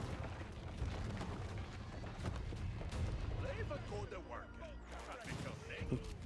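Ozutsu cannons firing on a palace in the Age of Empires 4 video game, dense overlapping booms and impacts forming a continuous battle rumble with chirpy unit effects mixed in.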